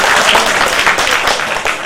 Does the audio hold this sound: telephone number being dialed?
no